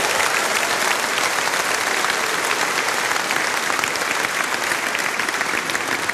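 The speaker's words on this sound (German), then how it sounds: "Genieß deinen Applaus." A TV studio audience at a Musikantenstadl folk music show in Bozen claps continuously, a dense, loud and sustained wash of applause from many hands with no break.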